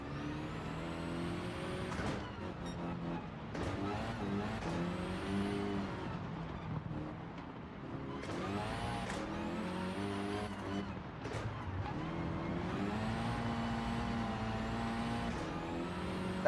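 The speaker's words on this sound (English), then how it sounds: "That was a proper hand braking right there" A car in a racing video game handbraking through a turn, engine revving and tires scrubbing in repeated surges, steady and fairly loud throughout with no voices over it.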